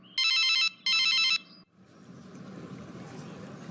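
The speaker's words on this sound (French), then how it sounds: "Et le téléphone de Djibril se mit à sonner." Two loud electronic phone rings, each burst about half a second long with a short gap between, followed by a faint pause and then soft, low background rumble in a quiet room.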